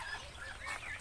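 Soft clucking from laying hens, a few murmuring calls over low background noise, faint and somewhat distant.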